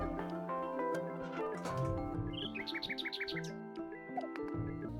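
A quick run of high, mechanical-sounding chirps from a mechanical pigeon in Machinarium, about a dozen in a row, over steady synthetic game music.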